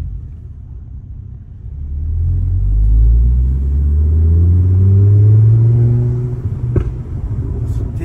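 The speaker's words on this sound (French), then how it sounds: "Le 5 cylindres d'origine a un moteur qui chante très fort." A deep, throaty five-cylinder engine of a stage 3 Ford Focus ST Mk2 rumbling close by, rising in pitch as it revs up and holding a loud steady growl, with a brief click near the end.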